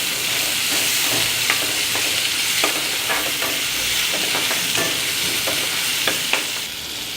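Salted ginger garlic masala sautéing in a pan for mutton curry, a steady close sizzle broken by regular spoon stirs and taps against the vessel, with no talking.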